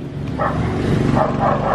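A dog lets out a few short barks close by, a quick burst followed by more yips within under two seconds.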